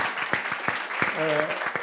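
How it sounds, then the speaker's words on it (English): An audience claps steadily in a brisk burst of applause, with a voice briefly rising over the clapping. "a round of applause for all our panelists, please."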